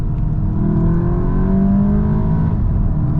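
A 2024 Mk8.5 VW Golf GTI, front-wheel drive, revs hard in manual mode, its engine note climbing steadily and loud from inside the cabin with no talking.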